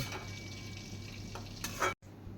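Water lily shukto with poppy seed and ginger cooks in a pan, giving a soft steady sizzle with a few scraping stirs near the end before a brief cut.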